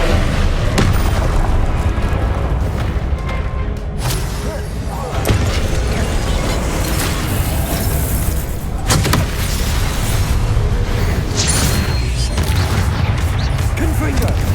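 Confringo spell blasts in Hogwarts Legacy, several loud booming explosions and crashes amid dense, continuous combat noise, with a voice speaking over the action.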